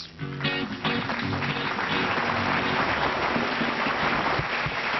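Sustained studio audience applause at a Pakistani television variety show, steady dense clapping filling the whole stretch after a brief quieter start, loud and continuous with no voices on top.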